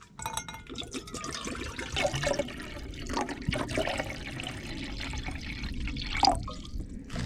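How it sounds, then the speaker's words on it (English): Water poured into a JetBoil stove cup, filling it nearly full for camp coffee at a truck campsite: quiet trickling and splashing liquid with a few drips, no talking. "I'll pretty much fill the JetBoil up all the way and boil that entire cup"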